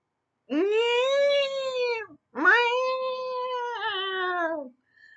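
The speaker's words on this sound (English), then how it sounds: "his cat was non-stop howling" A neutered male cat howling in two long, loud, drawn-out yowls with a brief break between them, close and alone.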